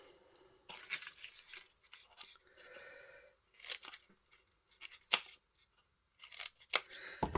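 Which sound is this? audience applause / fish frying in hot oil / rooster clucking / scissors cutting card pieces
scissors cutting card pieces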